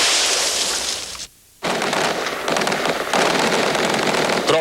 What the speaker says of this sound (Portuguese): Tropas americanas e forças da resistência também dispararam tiros de metralhadora na batalha de hoje em Bagdá.